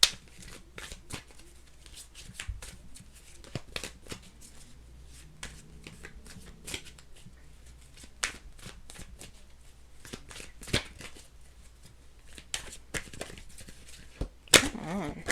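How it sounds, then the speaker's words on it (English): Tarot cards being shuffled by hand, a long run of quick riffling bursts and soft slaps, close and fairly quiet, with a louder flurry near the end. "What's going on with my shuffling all week?"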